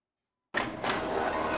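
An Epson L3110 printer starts up abruptly after silence, giving a steady mechanical whirring hum with a brief clack near the start, running on continuously.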